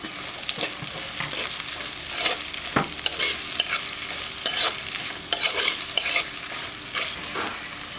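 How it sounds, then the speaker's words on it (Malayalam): Shallots with ginger and garlic fry in a pan, giving a steady close sizzle under repeated scraping stirs of a spoon, without a break throughout. "നമ്മുടെ ഇഞ്ചിയും വെളുത്തുള്ളിയൊക്കെ മൂത്തിട്ടുണ്ട് ഇതിലേക്ക് സവാള ഇട്ട് കൊടുക്കാം"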